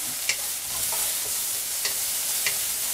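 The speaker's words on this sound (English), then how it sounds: "then we're going to put in our vegetables. Mix that around a little bit." Vegetables with minced ginger being tossed in a hot stir-fry pan for a chicken stir fry, continuous loud sizzle with a few sharp clinks and scrapes of a utensil, close.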